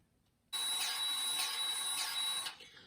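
Grease gun pumping grease through a Saker coupler locked onto a zerk fitting, a close, steady two-second mechanical whine with a few rhythmic pulses, starting abruptly after a short silence and tapering off.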